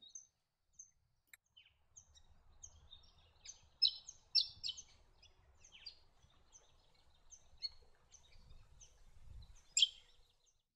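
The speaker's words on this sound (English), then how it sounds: "A not so common honeyeater of the top end is the red-headed honeyeater." Red-headed honeyeater in the Top End giving a series of short, high chirping notes, spaced irregularly with a few louder clustered bursts, faint and somewhat distant over a quiet background of insects.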